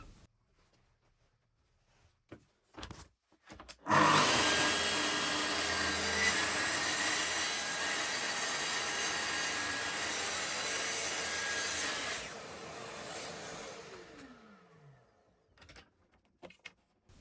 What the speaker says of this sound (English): I made a bevel cut on the two outer facing edges so I could do a return bevel after it was fitted.